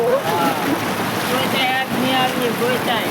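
Loud rushing floodwater roars steadily nearby during heavy rain, mixed with wind buffeting, while a person talks over it.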